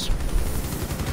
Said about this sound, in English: They're all running LMGs and they can't stop shooting.